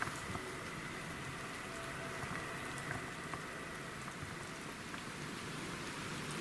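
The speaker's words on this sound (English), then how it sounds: "it's just sort of like drizzly" Light drizzling rain at a medieval church ruin in Norfolk, a steady soft hiss of fine drops spread evenly throughout with no breaks.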